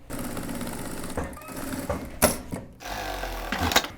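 A sewing machine runs in quick rattling bursts while stitching a pair of 90s-style jeans, with short pauses between runs and the mechanical chatter close and fairly loud.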